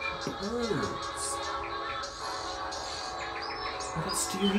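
Birds chirp in short, scattered tweets around a residential yard, light and intermittent, over a steady outdoor background with a faint voice nearby.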